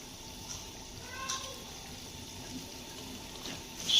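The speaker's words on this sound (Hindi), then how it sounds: "इधर हमारा पानी पकना शुरू हो चुका है, तो इसमें हम डाल देंगे शिमला" Water heating in a cooking pot for shimla mirch (capsicum) salan gives a faint, steady watery hiss and bubbling that continues without pause, with a few slightly louder moments near the end.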